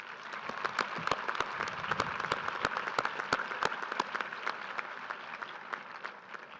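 Audience at the Red Mountain High School Class of 2015 graduation ceremony applauds, with sharp individual claps standing out over a broad steady wash, moderately distant and tapering toward the end.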